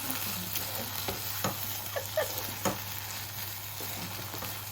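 Brinjal masala curry fries in a pan with a steady soft sizzle, while a spoon scrapes and stirs in occasional light strokes close by.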